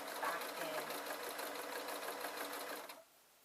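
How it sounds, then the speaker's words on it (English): A sewing machine runs fast, stitching a fabric leaf shape with right sides together, a close, rapid mechanical whirring rattle that stops abruptly near the end, leaving quiet. "Now, right sides together, and I'm sewing the leaf shape back in."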